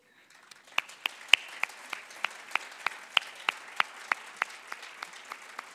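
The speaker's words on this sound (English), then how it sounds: "If I could please ask all my fellow graduates to stand and applaud to show your appreciation." Sharp, regular claps ring out from graduates standing at a university graduation ceremony, loud evenly spaced hits over a softer bed of scattered applause in a reverberant hall.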